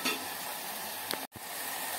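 Carrot halwa cooked in ghee with fried nuts is stirred in a pressure cooker pan, giving a quiet, steady sizzle with soft scraping strokes and one brief clack.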